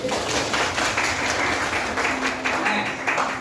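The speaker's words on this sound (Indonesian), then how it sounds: "Tepuk tangan dulu." Students in a classroom give a short burst of dense, steady applause lasting a few seconds, close and fairly loud.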